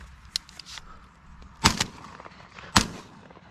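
Shotgun shots fired at crows over a cut maize field, with a faint crack early on followed by two loud, sharp outdoor blasts about a second apart, each with a short tail.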